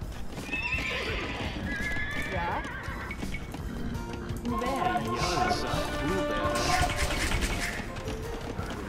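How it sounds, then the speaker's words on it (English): Horses neigh and whinny over a constant clatter of galloping hooves, with several calls overlapping in a busy game soundscape from Age of Empires 2 DE. "I do have lots of horses now"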